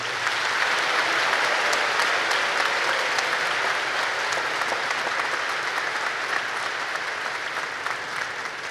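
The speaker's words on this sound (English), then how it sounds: "Please join us in one more round of applause" Audience applause at the 2023 United States Naval Academy Alumni Association award ceremony: dense, sustained clapping from a large crowd filling the hall, steady and even throughout with no talk over it.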